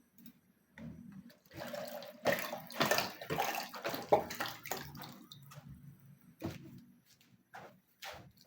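Tap water runs while breakfast is being made in the morning, a near, uneven gush that rises and falls in splashing bursts and cuts off briefly several times.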